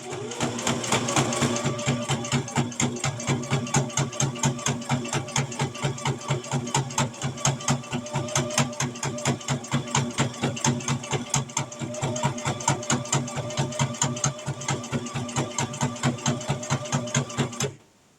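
A sewing machine stitches a coffee cup cozy in one long, steady run of rapid, evenly spaced needle strokes, close and loud, then stops abruptly.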